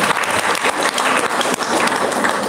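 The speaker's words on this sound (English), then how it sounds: "A big round of applause for all of you." Short burst of dense audience applause at a summer school welcome event, many hands clapping loudly and evenly throughout.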